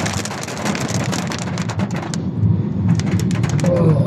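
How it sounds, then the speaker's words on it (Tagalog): Steady rain falls in Butuan City, a dense continuous hiss of drops on surfaces that swells slightly louder toward the end, with a faint low rumble underneath. "Ulan din sa Butuan, mga idol."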